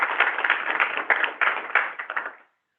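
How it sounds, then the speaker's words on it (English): An audience at a Shark Tank-style competition event applauds the judges, a burst of clapping with distinct individual claps standing out that fades and stops abruptly near the end, leaving silence. "please join me in just giving them a round of applause"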